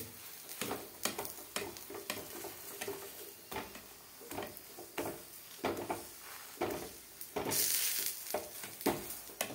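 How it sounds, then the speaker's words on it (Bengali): Paratha frying in a little oil in a pan while being pressed down, giving a steady close sizzle with repeated soft pressing and scraping taps throughout. "চেপে চেপে ভাজতে হবে।"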